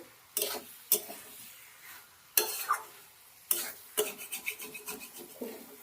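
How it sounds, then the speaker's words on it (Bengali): Dried loitta fish with winter vegetables stir-fried in a pan: a spatula scrapes in sharp, separate strokes, then a quicker run of scrapes, over a soft, steady sizzle. "শুকনো করে ভাজা ভাজা করা হবে"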